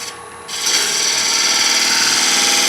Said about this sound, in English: this is how he turns his dovetail tenon. Just a simple roll of the tool with a very sort of steep spindle gouge.